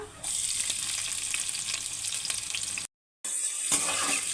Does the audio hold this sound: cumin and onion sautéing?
yes